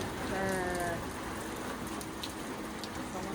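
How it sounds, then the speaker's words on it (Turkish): Steady rain patters and hisses across the whole stretch, with a few faint tonal sounds near the start. "Mecburen yağmurun dinmesini bekleyeceğiz."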